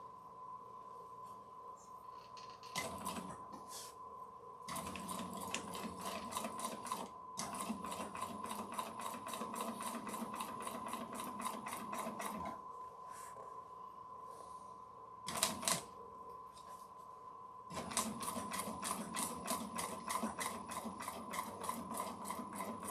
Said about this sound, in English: because you're going to top stitch it right here